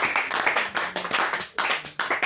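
A church congregation claps in acclamation during a service, steady rhythmic hand clapping up close, with a faint voice underneath.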